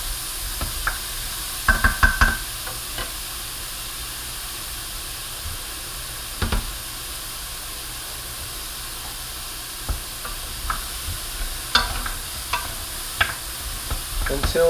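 Onions sauté for jambalaya in a steady, low sizzle. Occasional clinks and scrapes of stirring break in, and a few louder knocks come near the end, with no talk.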